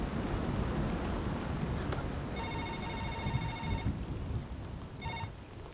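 Heavy rain pouring steadily with a low rumble of thunder, a dense continuous wash of sound throughout, with a phone ringing briefly through the downpour.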